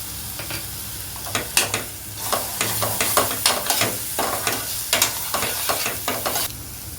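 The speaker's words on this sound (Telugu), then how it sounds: "ఉల్లికారం ఇలా వేగుతున్నప్పుడు" Onion chilli paste fries in a pan as it is stirred, a continuous sizzle broken by repeated scraping strokes in a steady rhythm, close and fairly loud.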